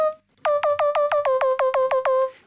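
A synthesized vocal-like lead from Native Instruments Massive X plays a rapid series of about eleven repeated, evenly spaced tonal notes. Each note opens with a short pitch-envelope click, loud and clean, with no talking.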